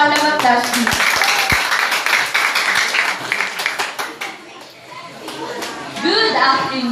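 Applause for a student debate presenter at a SEAMEO class debate, a few sharp claps and busy clapping mixed with children's chatter and voices throughout, fading slightly before voices rise again at the end.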